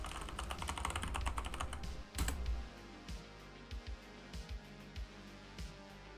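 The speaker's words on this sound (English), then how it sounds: "Keyboard sounds." Rapid keyboard typing on a computer during a gaming stream, a dense clatter of keys for about two seconds, then a sharp burst followed by sparse, scattered individual keystrokes.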